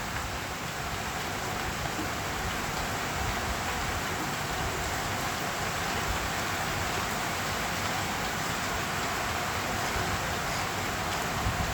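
Steady, even rain hiss outdoors, a constant broadband wash with no distinct drops or voices, moderately loud throughout.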